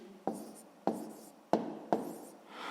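Pen strokes writing the numbers of a fraction during a sixth-grade maths exercise: four short, distinct scratches at an even pace, close and fairly quiet, with no voices.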